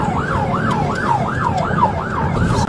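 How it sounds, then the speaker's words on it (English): Police car siren wailing in a steady rising-and-falling cycle during a high-speed pursuit of a stolen red Kia through the streets of West Allis, Wisconsin, loud and continuous over road and engine rumble. "Turn your sirens on, sirens on."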